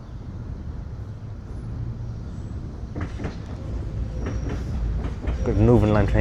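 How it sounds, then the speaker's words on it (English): A London Underground Northern Line train passes in Morden, a rumbling rail roar that gradually builds and grows louder toward the end, with a voice speaking over the passing train. "got the Northern Line train going past."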